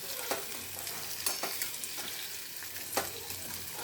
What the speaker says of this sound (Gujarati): તો હવે આને આપણે હલાવી અને મિક્સ કરી દઈશું।